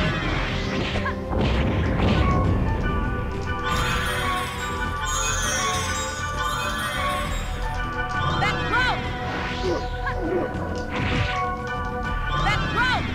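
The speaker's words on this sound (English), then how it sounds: "You shall die by Daddy's fire tornadoes" Fire tornado spells in the game .hack//Mutation produce repeated crashing, whooshing magical hits with swept tones over steady battle music, loud and continuous throughout.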